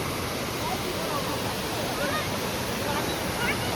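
Vyaghreshwar waterfall in Devgad taluka, busy with visitors, pours with a constant, dense roar of rushing water that stays even and loud throughout.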